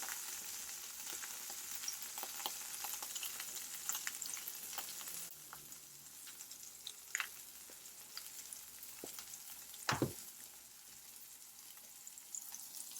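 Burger patty frying in a pan with a continuous close sizzle, punctuated by occasional ticks and a sharper clatter partway through, steady and moderately quiet.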